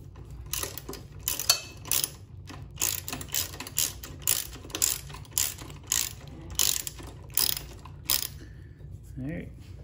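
A ratchet tightens the nut on the exhaust bracket of a 2020 Triumph Street Triple RS fitted with an Akrapovic exhaust, giving about ten close, crisp bursts of rapid clicking in a steady back-and-forth rhythm.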